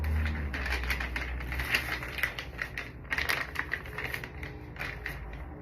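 Mail packaging around a designer shirt is handled and torn open up close, with crinkly rustling and a burst of crisp crackling toward the end, no voices.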